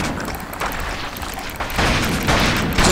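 Gunfire rattles in The Thing video game as an enemy is shot, bursts of dense, rapid shots that grow louder toward the end, harsh and continuous.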